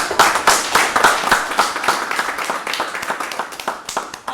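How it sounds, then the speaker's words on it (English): Council members at a health committee meeting clap together in applause for healthcare heroes, a dense, steady patter of many hands that carries on throughout before starting to thin toward the end. "I would like to invite council to join me in applause for our healthcare heroes."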